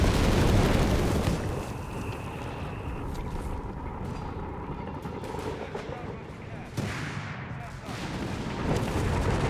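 Artillery fire from twin 105mm Sherman tanks in the strategy game Company of Heroes 3, a dense rumbling barrage of booming blasts that rolls on through the whole stretch, loud and thick, with a sharper burst near the end.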